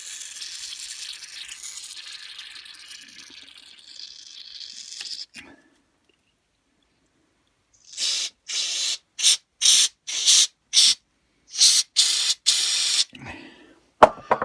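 Cleaner sprays through a carburetor from a nozzle: a long hissing spray that fades out, a pause of silence, then a series of short sharp bursts in quick succession, loud and close.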